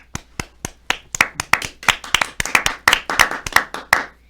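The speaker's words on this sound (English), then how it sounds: "Can we have a round of applause for him?" A studio audience applauds with a round of clapping, individual hand claps distinct and rhythmic, building slightly and continuing for several seconds, close and fairly loud.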